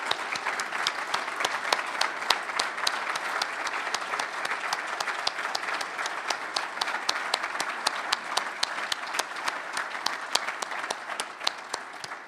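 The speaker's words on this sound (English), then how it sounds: "I'd ask you to stand up while we applaud you for your great" Audience applause for award winners at a building design awards event, dense steady clapping from a large room that carries on evenly throughout, fairly faint and without talk.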